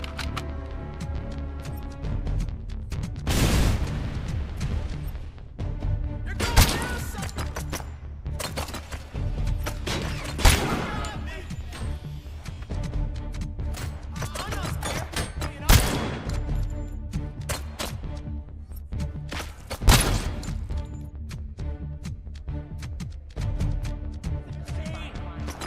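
Gunfire in RoboCop: Rogue City's Synthetic Man DLC: loud, close shots and bursts recur every few seconds over a dense, continuous layer of game sound.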